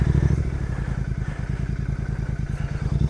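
A heavy, new Royal Enfield GT650 motorcycle labors up a rocky road, its engine giving a steady, close, loud thumping pulse with a rattling clatter throughout.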